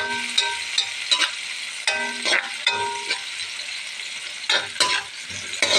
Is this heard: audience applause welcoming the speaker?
no